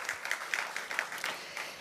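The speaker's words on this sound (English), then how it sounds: "So one big round of applause for all of them." A gathering at the North DeKalb Mall demolition ceremony applauds, scattered claps standing out sharply over a soft wash of clapping that thins out toward the end, with no talking.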